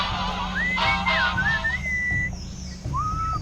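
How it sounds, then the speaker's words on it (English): Melodic whistling in the Sam & Max video game, a clear sliding tune of several rising and falling notes over background game music, a pause, then a short final phrase. "What is that enchanting whistling sound?"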